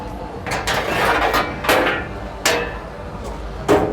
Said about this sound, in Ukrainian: Мийка складається, кришка.